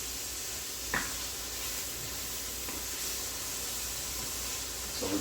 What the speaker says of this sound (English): I got the Holy Trinity, celery, onions, and peppers. I'm gonna saute that.